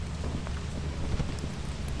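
Rain falls steadily in the video game Lethal Company, a constant hiss over a low rumbling undertone of distant thunder, with no talking.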